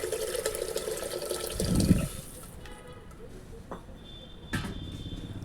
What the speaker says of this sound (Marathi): हे बघा, इथे जास्त पाणी वापरायचं आहे.